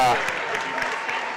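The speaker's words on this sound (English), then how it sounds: "nice round of applause" Steady crowd applause fills a high school gymnasium at Clarksville High School during a basketball event, a continuous wash of clapping with an announcer talking over it.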